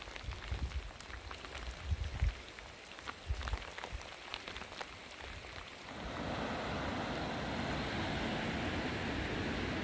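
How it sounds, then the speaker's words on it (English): Rain patters with scattered close drops, then shifts into a steady, dense hiss of rainfall that continues evenly to the end. "Still raining."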